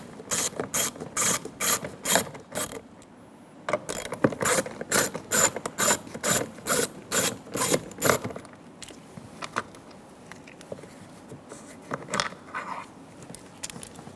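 A ratchet loosens two 7mm bolts under the inner door handle trim of a 2014-2018 Chevrolet Silverado 1500. It makes loud, close runs of rapid clicking in two long bursts, followed by quieter scattered clicks and handling noises.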